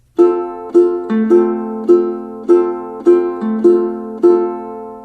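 Bright plucked ukulele notes in a steady fingerpicking pattern for a song, evenly spaced and ringing briefly, played alone at a moderate tempo with no voices.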